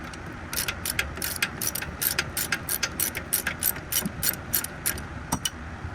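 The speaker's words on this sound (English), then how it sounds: "adjustable wrench here can hold on to." An adjustable wrench ratchets against a nut on a car's rear brake caliper, a quick series of sharp metallic clicks in uneven bursts, close and fairly faint, with no talk.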